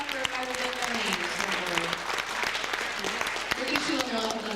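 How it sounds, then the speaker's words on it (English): An audience at the 2000 Anchorage Folk Festival claps loudly and continuously, a dense crackle of many hands, with a voice speaking over the applause. "I want you to give him a big round of applause."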